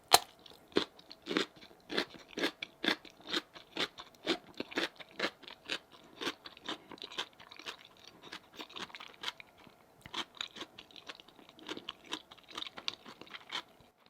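Close, crisp crunching and chewing of Jamaican spice bun with pickles, repeated bites and chews in a loose, uneven rhythm over several seconds, with no talking.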